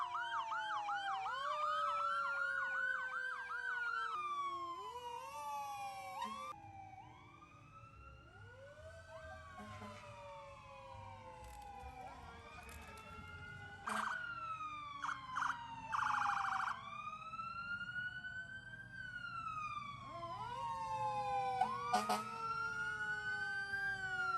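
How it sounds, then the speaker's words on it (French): Loud wailing and yelping emergency sirens from police cars and fire engines escorting a Santa Claus parade, rising and falling continuously for the whole stretch, with brief horn-like bursts midway. "Attention à la sirène, c'est plutôt fort."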